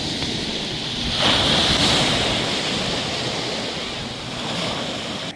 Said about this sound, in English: it was a little bit windy, the sea was a bit rough